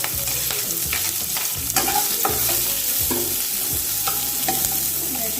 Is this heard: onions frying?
yes